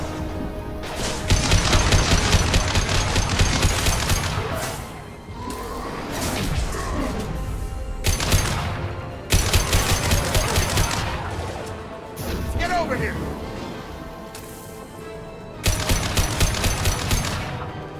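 Weapon gunfire from the video game Mass Effect 2 Legendary Edition comes in several loud sustained bursts of rapid automatic shots, separated by short lulls with whooshes and impacts.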